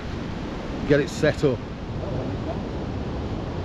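Steady rushing water over a weir on the River Ure at Boroughbridge fills the background throughout, with a few short spoken words briefly rising over it.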